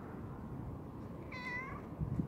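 A single soft cat meow, fairly close, rising then falling, over a quiet background hiss with a faint rustle afterward.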